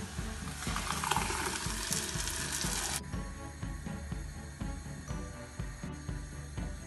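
Ground tomato being added to a hot pan for a spicy tomato hot chutney, with a burst of loud sizzling that settles into steady bubbling and frying with faint clinks of stirring.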